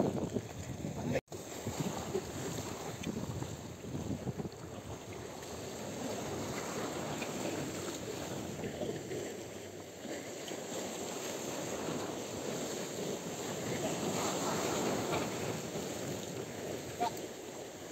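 Wind gusts across a small fishing boat out at sea, a broad continuous rushing roar near the microphone with water wash mixed in, briefly cut at the start.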